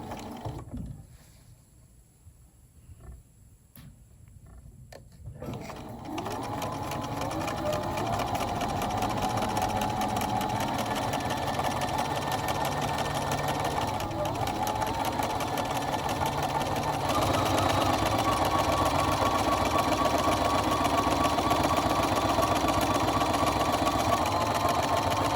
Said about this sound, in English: We're going to sew right off the end